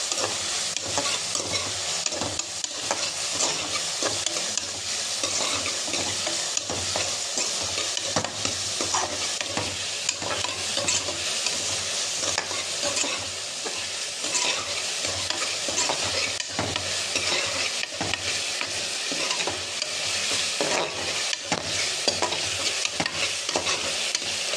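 Onions and tomatoes sautéed in a pan for a rice and lentil dish, a steady sizzle broken by frequent scraping stirs of a spatula, close and continuous with no talking.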